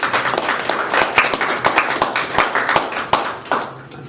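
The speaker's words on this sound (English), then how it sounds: "So I'd like to give the Heritage Lake members who donated a round of applause." A small group at a community board meeting claps in thanks for blood donors. Individual claps stand out in an uneven patter that thins and fades after about three and a half seconds.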